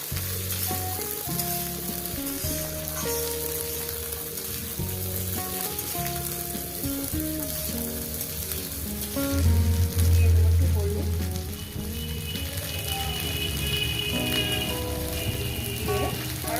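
Red lentils and vegetable stalks frying together in a pan, giving a dense, continuous close sizzle with small clinks and a brief louder hiss partway through; faint voice traces sit underneath.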